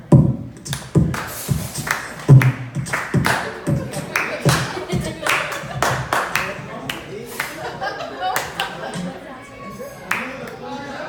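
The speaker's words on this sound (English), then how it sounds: "Come on, clap your hands." Comedy club audience at Bobby Salazar's clapping hands together in rhythm, uneven claps mixed with someone talking over them and scattered chuckles.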